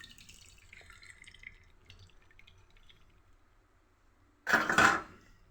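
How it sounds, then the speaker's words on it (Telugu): Jaggery water poured through a strainer into milk makes a short, splashy liquid pour near the end, after a few seconds of quiet kitchen background with faint drips. "ఆ స్ట్రైనర్ పై నుంచి బెల్లం వాటర్ మొత్తం ఇందులో యాడ్ చేసేసుకున్నాను"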